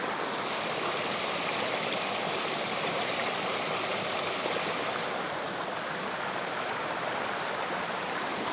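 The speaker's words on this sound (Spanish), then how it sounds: "Vean, por aquí hay otras pequeñas caídas de agua." Small waterfalls and a mountain stream pour and rush in a steady, dense outdoor wash, constant and fairly loud throughout with no voices.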